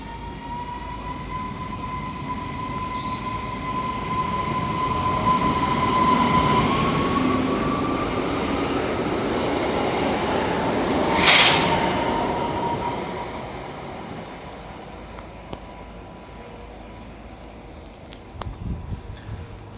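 A train pulls out of Opole Główne railway station, a steady low rumble of wheels and cars rising and easing over about twenty seconds, with a faint tonal whine early on and a brief louder burst midway, heard from the platform.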